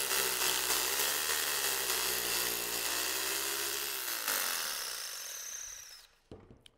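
A power drill boring a hole into concrete to take a pre-compressed nylon nail dowel, a loud steady grinding whine that runs for about six seconds before it stops and a few faint clicks follow.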